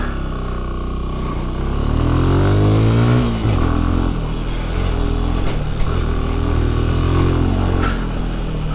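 A 2021 Benelli TNT 135 small-displacement motorcycle engine pulls hard while riding, its buzzing note climbing through the gears with rising revs, a shift around mid-clip, then steady loud throttle close to the rider.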